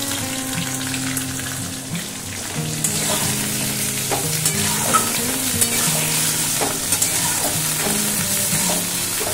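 Curd and pointed gourd curry sizzles and fries in a pan while a spoon stirs it, giving a steady close hiss with occasional scraping strokes and no voices.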